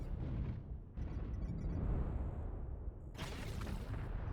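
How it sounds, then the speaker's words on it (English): In MechWarrior Online, an ammunition explosion erupts as a dense, rumbling roar, with a sharp crackling burst near the end, all fairly loud and steady, with no voices over it. "Yep, it exploded."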